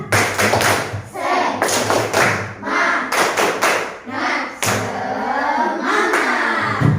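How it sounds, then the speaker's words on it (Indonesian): Primary-school pupils in a classroom perform the rhythmic tepuk semangat clap: patterned bursts of claps and thumps in quick groups, with children's voices chanting along over the beat. "Oke, tepuk semangat dulu biar kita semangat semuanya"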